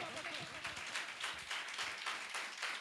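A congregation at a Sunday church service claps together in a steady, rhythmic beat, with a voice speaking over the clapping.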